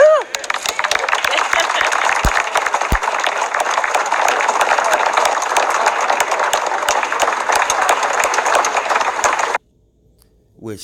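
A crowd at a deal signing breaks into dense, sustained applause, a steady wash of many hands clapping for about nine seconds before it cuts off abruptly into silence.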